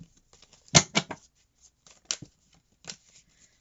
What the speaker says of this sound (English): I'm just gonna go ahead and shuffle the deck